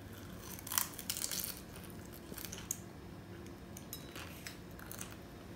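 Someone bites into a crispy fried curried beef samosa, producing a few close, soft crunches and crackles early on, followed by quieter chewing sounds with no talking.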